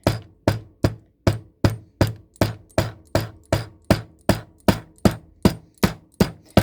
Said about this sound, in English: This is a small hammer